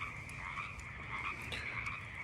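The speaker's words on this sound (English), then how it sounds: "I'm surrounded by frogs making noise." A dense chorus of frogs croaks at night outdoors, overlapping trilling calls that continue steadily and fairly close, with no voices.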